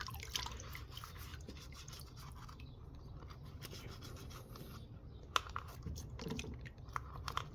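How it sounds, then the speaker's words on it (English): A 3M paint respirator mask is scrubbed with a brush, giving quiet, rapid scratchy strokes with a few sharper taps and drips, close and faint. "Go ahead and brush the inside of it as well."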